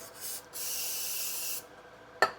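Brake cleaner sprayed onto a magnet tool during an oil change on a 2024 Nissan Navara: a short hissing burst, then a longer steady spray of about a second, followed by a sharp click.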